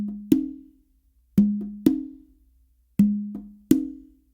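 Two congas play the closing phrase of a modern funk pattern: five sharp open slaps and tones in uneven clusters, each ringing and decaying, alone and close, with silence between hits.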